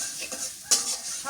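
Green chilies fry in hot oil in a village kitchen with a soft sizzle, and one sharp stirring clatter against the pan breaks in near the middle.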